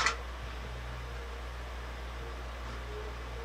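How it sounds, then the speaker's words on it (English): A well-kept box fan running on its low speed setting gives a steady, even hum with soft broadband air noise, continuous and close throughout, with a brief faint rustle at the very start. "Perfect example of a box fan treated well. It's got a very great sound. Listen to it on low."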